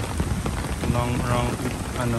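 Rain falls steadily on a golf course during a round, a dense, close patter with people talking faintly underneath.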